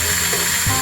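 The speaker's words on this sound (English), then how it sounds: "Don't you just love drilling out broken off bolts?" A power drill whines steadily while drilling out a broken-off motorcycle bolt held with thread-locker, a loud, close, continuous grinding drone with a brief dip near the end.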